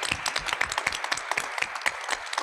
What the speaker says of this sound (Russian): думаю, аплодисменты звучат